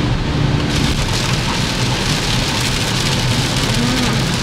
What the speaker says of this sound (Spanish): es que está lloviendo mucho, no se alcanza a ver la torre.